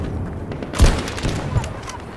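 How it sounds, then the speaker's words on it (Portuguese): Sniper rifle shots in Battlefield 2042 ring out as a couple of sharp, booming cracks over a dense, noisy battlefield background. "o tiro da sniper não tá pegando não"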